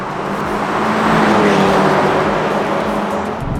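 A Honda Civic Type R FL5, Toyota GR Corolla and VW Golf GTI with DSG drag racing, heard as a loud sustained engine roar with a rising pitch as the cars accelerate hard past a close vantage point, with no talk.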